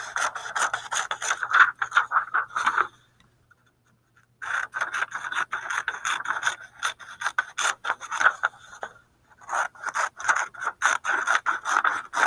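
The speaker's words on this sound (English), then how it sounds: "I'll just cut around the border of this whole page" Scissors cutting around the border of a paper page, a rapid close series of crisp snipping and rustling strokes in three runs separated by short pauses, with no talking.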